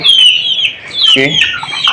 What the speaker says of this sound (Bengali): ফার্মি ও সোনালির মুরগির বাচ্চা এনেছি